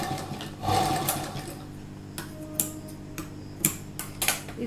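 A sewing machine runs briefly over the seam of a slip, a short whir followed by a series of distinct mechanical ticks and clicks, close and moderately loud.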